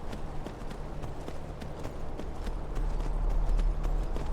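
Hooves of a horse in Skyrim clatter in a quick, even galloping rhythm, with a low rumble growing louder toward the end.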